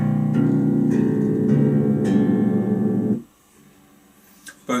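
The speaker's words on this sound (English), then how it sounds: "This is the sound of the bridge pickup." On its bridge pickup, a handmade five-string electric bass sounds a short run of plucked notes with a slightly brighter, firmer attack; they sustain close and loud, then stop abruptly, leaving near silence and a couple of small handling knocks.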